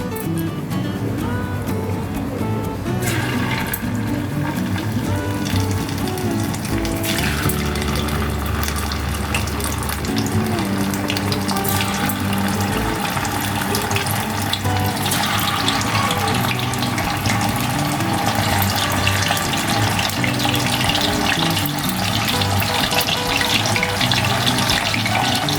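Anchovies (nethili) sizzle and crackle as they are dropped into hot frying oil, a steady, close, broadband hiss running continuously without speech.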